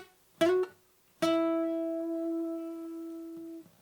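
An acoustic guitar plays a solo line transposed lower on the neck: a short plucked note, then a single sustained ringing note that slowly decays, alone and close.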